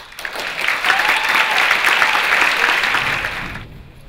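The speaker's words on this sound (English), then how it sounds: "Oh, applause was certainly strong." A strong round of audience applause at a Martin Luther King Jr. Day celebration in Brookline swells quickly, holds loud and dense for several seconds, then cuts off.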